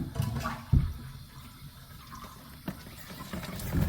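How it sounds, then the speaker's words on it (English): Water pours out of a toilet tank as the fill valve is changed, giving irregular splashes and gurgles. A few sharp knocks stand out, one loud near the start. "I'm gonna have to pull this out and water's gonna come out"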